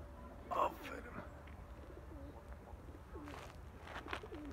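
Pigeons coo on and off during an evening flight session at a loft, soft low calls under background noise with a few brief louder bursts.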